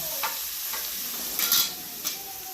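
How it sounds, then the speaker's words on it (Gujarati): Thin potato wafers frying in hot oil, a steady close sizzle with a few brief crackling bursts from stirring, constant and alone without speech. "થોડી થોડી ફ્રાય થાય ને પછી નિમક નાખી દો એટલે એકદમ વેફર થઈ જશે ફર્સ્ટ ક્લાસ"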